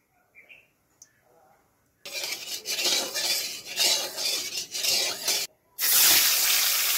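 Salted, turmeric-rubbed fish heads hit hot oil in a heated wok, breaking into a loud, steady hiss that swells and falls, cuts out briefly, then surges again even louder.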